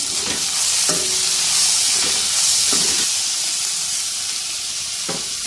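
Softened onions with turmeric and salt being stirred in a frying pan, a loud steamy hiss and sizzle with a few sharp scraping stirs of the spoon, close up and alone.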